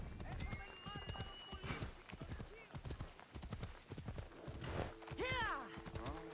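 A horse's hooves clip-clop in a rapid, uneven patter in Assassin's Creed Odyssey on Xbox One X. Game sounds and voices overlap the hoofbeats, and a bright tonal call rises near the end.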